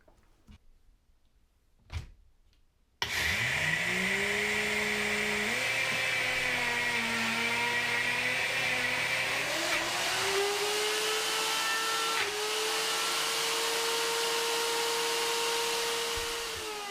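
A NutriBullet Rx blender grinds two cups of roasted, unsalted sunflower seed kernels. It starts suddenly after a few faint clicks, then runs as a loud, steady whine for the rest of the time, with the pitch shifting slightly as the load changes.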